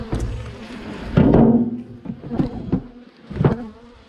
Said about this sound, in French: regarde, il y a une guêpe.